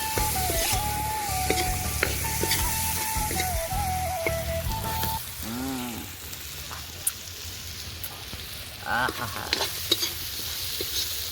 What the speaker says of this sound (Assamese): মাংস আলু পূৰা ভাজি আছে